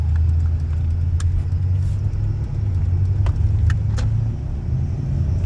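A 2006 Toyota Tundra SR5 RWD pickup cruises along a road, its engine and tires giving a steady low rumble from inside the cab, with a few small clicks and rattles and no voices.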